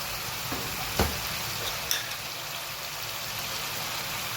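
Tomatoes hit a hot frying pan and set off a steady, loud, close sizzle that carries through the whole stretch, with a couple of brief knocks from stirring near the start.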